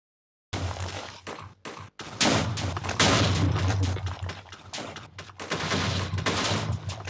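Colorized archival footage of the Chernobyl reactor explosion carries a loud, continuous, dense roar of blasts and crackling bursts, breaking off briefly near the start and then swelling into sustained heavy rumbling with no voices.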